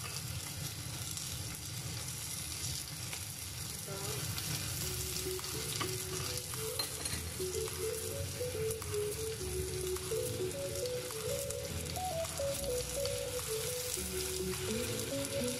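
Indomie instant noodles fry and sizzle in a pan, a steady close crackling hiss that holds for the whole stretch, with faint stirring underneath and no talk.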